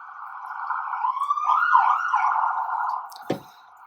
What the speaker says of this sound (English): Sorry for the sirens. I live by a fire station.